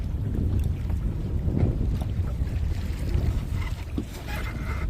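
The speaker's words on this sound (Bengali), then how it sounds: "ব্যালেন্স ঠিক করা যাচ্ছে না প্রচণ্ড তুপন হচ্ছে নদীতে" Gusty storm wind roars around a small boat on a Sundarbans river, a heavy, unbroken low buffeting with faint water movement underneath.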